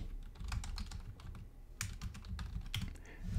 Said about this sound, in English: I want to go ahead and type in